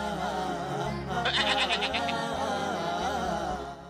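A sheep bleats in a quavering call over a steady musical backing, the animal loud and close with no talk.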